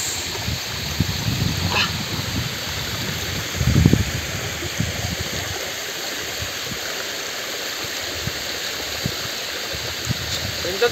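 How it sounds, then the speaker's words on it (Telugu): Kona waterfall near Yadiki, Anantapur, Andhra Pradesh, pouring in a steady, broad rush of falling water that holds evenly throughout, with a brief louder swell near the middle. "This is the Kona waterfalls."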